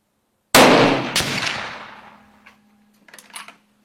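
A gunshot at a shooting-range target session, part of big-game hunting licence preparation: one sharp, loud blast with a long decaying tail, followed by faint clicks and handling noises near the end.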